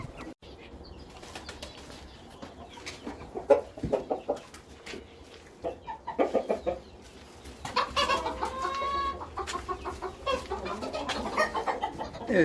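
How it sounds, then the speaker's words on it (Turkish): Pigeons in an indoor loft flutter and coo, with repeated bursts of wing flapping and soft throaty calls, close and busy throughout. "Şimdi içerideki güvercinlere geçiyorum."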